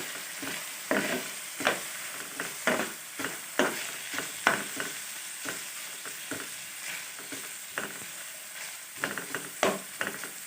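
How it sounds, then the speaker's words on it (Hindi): Chicken sandwich filling with soy sauce frying in a pan, a steady sizzle under repeated stirring and scraping strokes, close and continuous. "इसको बिल्कुल हल्का सा हमने फ्राई करना है।"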